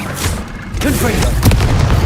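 A Confringo spell blast in the Hogwarts Legacy video game, a deep boom close by, with a short in-game voice calling out over the rumbling combat background.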